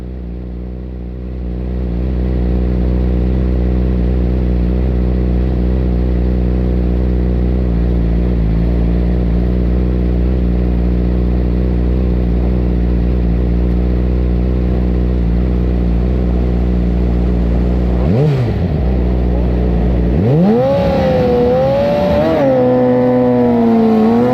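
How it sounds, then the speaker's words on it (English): Yamaha R6 race motorcycle engine roars steadily and loud through the clip, then near the end the rider blips the throttle several times, revs jumping up and down in quick bursts. "So you can hear me blip the throttle a little bit there."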